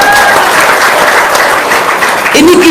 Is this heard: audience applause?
yes